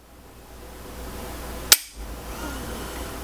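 A single sharp metallic snap as the trigger of a Foxtrot Mike-9 AR9 carbine breaks, close and crisp and standing alone against a quiet room, with no clear second reset click.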